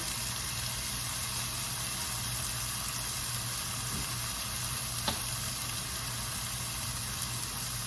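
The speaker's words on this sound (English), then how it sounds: "So we're going to saute these in avocado oil just for a few minutes." Mushrooms sautéing in avocado oil for a Thai red curry noodle bowl, a constant dense sizzle close by with a faint clink or two, no voices.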